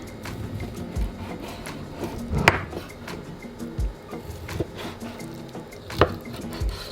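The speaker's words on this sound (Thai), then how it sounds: "เราจะหั่นเป็นลูกเต๋านะคะ" A knife taps and thuds irregularly against a cutting board while an avocado is diced, with soft scraping between cuts.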